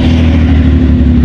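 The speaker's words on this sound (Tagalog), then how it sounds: "Pakinggan nyo yung tunog ng sasakyan na sinasakyan namin guys." Ferrari engine heard from inside the moving car, a loud, steady low rumble with a throbbing harmonic growl, brief and continuous with no talk.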